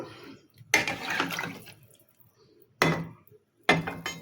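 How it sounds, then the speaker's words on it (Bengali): Water poured into a hot pan of fried tilapia and eggplant for a thin Bengali curry, giving a loud sizzling splash, then two more short bursts after a quiet gap. "এবার আমি জল দিয়ে দেবো। এই যে পাতলা ঝোল করবে, এই যে জল দিয়ে দিলাম।"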